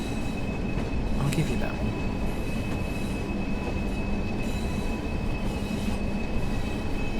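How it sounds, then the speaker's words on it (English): Train running in Train Sim World 5 on the West Coast Main Line between Preston and Carlisle, a loud continuous rumbling rail roar with a steady whine and a brief squeal, under a short spoken remark. "I know this train is louder than normal."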